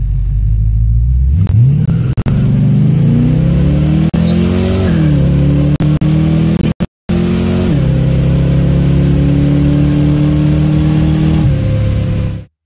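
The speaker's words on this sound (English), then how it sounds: "let's make the final pass with the car" A Foxbody Mustang on a drag strip pass, loaded with 1000 lbs of added weight, its engine revving hard through rising gear pulls with abrupt shift drops, loud and close, ending as the run winds down, no talking.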